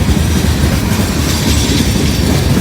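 A freight train rolls past trackside in the rain, a steady loud rumble of rail cars with faint clickety-clack of wheels over the rails, continuous and close with no pauses and no voices.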